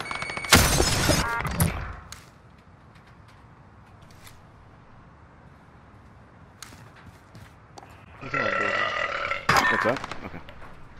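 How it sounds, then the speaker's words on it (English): A loud burp bursts out near the start of a Call of Duty League session in a pub, then voices and game noise carry on with a second loud, noisy stretch near the end. "The burps."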